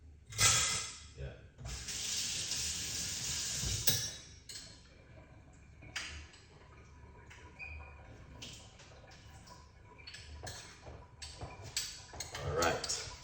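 Tap water splashes over cloves in a kitchen, with bursts of running water, light clinks of a cup or utensils and intermittent talking throughout.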